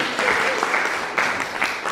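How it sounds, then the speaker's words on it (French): Audience applause at a French literary talk on Sherlock Holmes pastiches, a steady broadband patter of many hands clapping throughout, fairly close and even, with a few louder bursts. "Vous pouvez l'applaudir."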